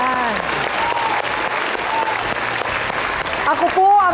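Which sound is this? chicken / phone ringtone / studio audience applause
studio audience applause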